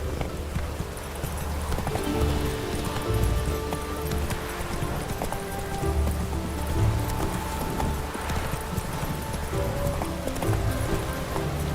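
A horse gallops in The Witcher 3 video game, its steady hoofbeats drumming continuously under dense, loud game ambience and music for the whole stretch.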